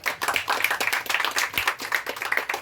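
An audience clapping at a public felicitation gathering, a dense, continuous patter of many hands, fairly close and lively.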